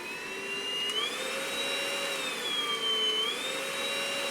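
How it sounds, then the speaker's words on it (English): Compact FirstLove cordless vacuum cleaner running on turbo suction, a steady high-pitched motor whine with a slight rise and fall in pitch, close and continuous with no talking. "we got a nice, small, compact vacuum cleaner"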